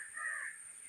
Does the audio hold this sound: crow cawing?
yes